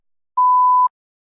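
A single clean electronic test prompt beep, a steady mid-pitched tone lasting about half a second, alone against silence.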